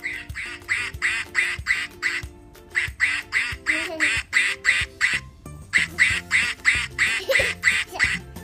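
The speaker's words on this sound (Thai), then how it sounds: "เป็ดส่งเสียงร้อง" A steady run of nasal duck quacks, about two per second, repeats through a children's duck song with light accompaniment underneath, loud and close.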